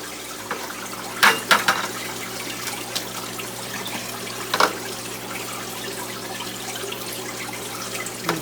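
Water from a 5-gallon bucket of aquarium tank water is tipped out in a few short splashing bursts over a steady low background hum, with quiet stretches between the pours.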